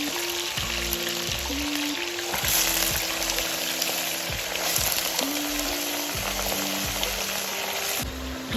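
Chicken pieces hissing and sizzling in hot oil in a pan for green chicken masala, a steady loud fry with stirring scrapes and no voices.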